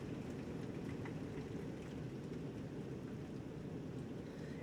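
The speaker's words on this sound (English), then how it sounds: "It is pouring rain here, like I don't know if you can hear that." Steady, dense rain pours continuously with a constant broadband hiss and no pauses or voices.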